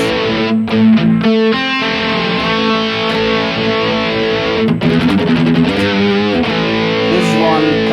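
An electric guitar plays JCM 800-style crunch through a multi-effects modeler, either a Valeton GP-200 or a BOSS GT-1000. Loud, ringing distorted chords sustain and decay, with a few quick choppy strums early on and fresh chord hits later.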